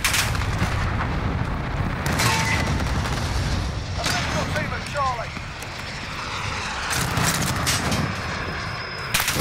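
Cluster strike explosions in a Modern Warfare video game, a dense continuous rumble of booms and gunfire with aircraft noise overhead, while players talk over it.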